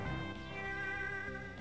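A Skitty's cry in Pokémon Sapphire, a synthesized game-console meow sustained with steady tonal harmonics over background game music, fairly loud and continuous.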